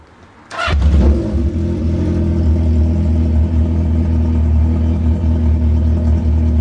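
Engine cold-starting after its carburetors were refitted: a short cranking burst, then it catches and roars loud and close, settling into a steady, rumbling idle.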